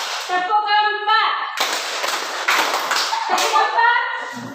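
Many hands clap in unison through a fourth counted clap pattern, a sustained run of sharp claps mid-clip, with a voice talking at the start and end.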